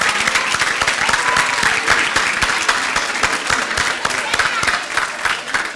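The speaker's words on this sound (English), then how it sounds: "Parents, they deserve a really big round of applause." A graduation audience at Rochester STEM Academy in 2017 claps steadily for the parents, with dense, sustained applause throughout and no clear voices.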